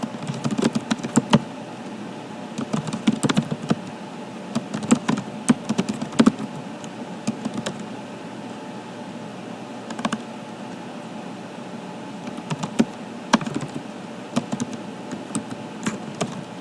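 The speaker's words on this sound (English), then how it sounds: "I'm typing exactly what I see" Steady typing on a computer keyboard, quick irregular key clicks with occasional louder taps, close by and continuing without speech.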